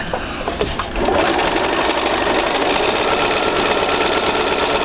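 A sewing machine stitches a quilt sampler block, starting with a brief hesitant burst and then running in a fast, steady mechanical chatter, close and loud, without talk.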